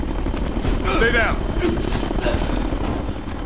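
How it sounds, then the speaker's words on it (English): A helicopter in the video game Ghost Recon: Future Soldier thrums as a loud continuous low rotor drone, with voices talking over it and bursts of gunfire-like cracks mixed in. "This chopper's here."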